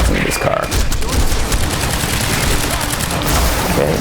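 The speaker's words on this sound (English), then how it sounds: "let's put some bullets into this car" Sustained rapid gunfire from the game Quantum Break as shots hit a car, loud and dense for the whole stretch, with a voice faintly beneath.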